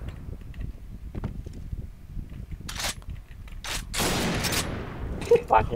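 A Winchester rifle fires in a shooting video game, heard as a few sharp, loud cracks and a longer noisy burst. A player talks underneath.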